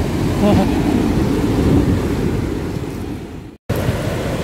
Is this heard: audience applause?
no